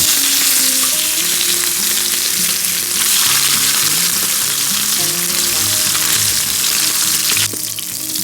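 English breakfast ingredients fry loudly in oil left from sausages and bacon, cooked outdoors; a dense, steady close-up sizzle runs throughout, with tonal music-like hum underneath and a slight drop near the end.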